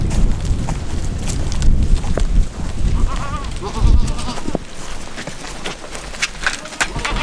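Goats bleat now and then in a barn amid a busy barnyard clatter of hooves and shuffling, with a few wavering animal calls rising over steady low rumble.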